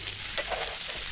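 Fish fry in coconut oil with curry leaves, giving a soft, continuous crackling sizzle close by with no voices.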